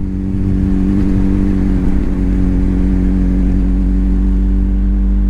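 Continuous loud engine drone of motorcycles rumbling past close by, a steady low roar with slight surges in revving.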